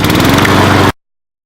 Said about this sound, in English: I'm going to give it another run over with the lawnmower.